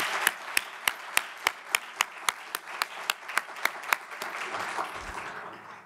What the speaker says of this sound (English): Let's give another round of applause to our dynamic student speakers.